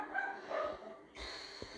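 Dog in a cage on a farm giving soft muffled barks and whimpering yips, several short calls spread across the moment, fairly faint and somewhat distant, with low background noise and no talking.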